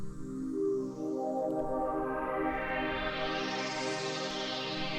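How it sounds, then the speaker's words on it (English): A sustained synth pad from Pigments holds thick chords while swirling modulation slowly opens the filter, so the tone grows brighter and airier over several seconds, heard alone and at steady volume. "After this sound there is a pad sound that sounds like this."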